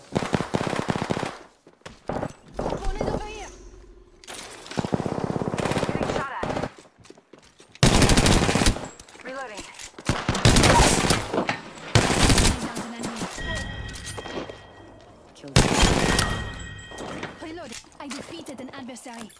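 Gunfire in Apex Legends Season 3, several loud bursts of automatic fire separated by pauses, mixed with voices talking and game sounds between the volleys.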